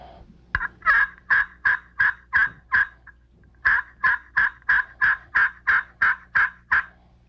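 A slate friction call imitating a hen turkey yelp gives two steady series of raspy, evenly spaced notes, around seven and then ten, close and prominent with a short pause between the series.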